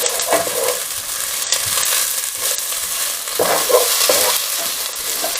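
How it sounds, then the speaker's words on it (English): Onion and garlic fry in a pan for a beef stroganoff, a close, steady crackling sizzle with rhythmic scraping as a utensil stirs the mixture, no voices. "Just give that a stir."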